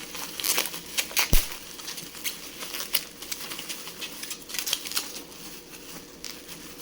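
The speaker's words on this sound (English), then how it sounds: "Let's get this bubble wrap opened up." Bubble wrap being opened by hand: close, crisp plastic crinkling and rustling in irregular bursts with a few sharp snaps.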